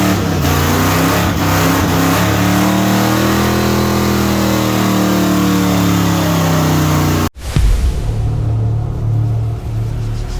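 A car engine revs hard during a burnout, a loud sustained wavering roar for about seven seconds that cuts off abruptly, followed by a lower idling rumble.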